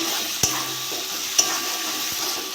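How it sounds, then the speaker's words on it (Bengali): A spice paste sizzles steadily in hot oil in a pan while a spoon stirs it, with two sharp clinks of the utensil against the pan over a constant bright frying hiss. "মশলাটা কষে নেবো।"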